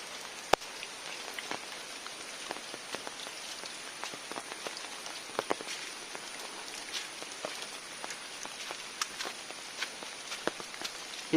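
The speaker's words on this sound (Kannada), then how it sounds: "ಹೊಳೆ ಶಬ್ದ ಕೇಳ್ತಲ್ಲ" A monsoon-swollen river near Pallathadka dam hisses continuously at a distance, with scattered small ticks and splashes over the steady wash. There is no speech.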